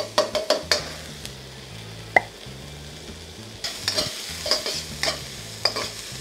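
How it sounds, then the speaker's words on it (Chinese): Onions and garlic sautéing in butter in a pan, with a soft steady sizzle under repeated sharp scraping and stirring clatters from a utensil against the pan, several in quick bursts. "我哋通常又系煮到啲洋葱开始半透明啦，咁我哋就可以加埋啲蒜头落去"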